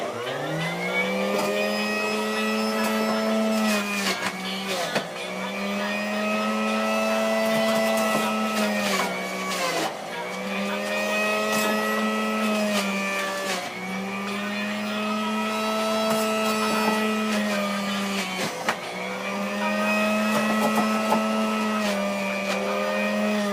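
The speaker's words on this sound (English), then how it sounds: "now that we have our beets all nicely chopped up, we're going to drop them in the juicer" A juicer grinds through chopped beets with a steady, loud motor whine that dips and recovers every few seconds as fresh pieces are fed in, running continuously with no talk.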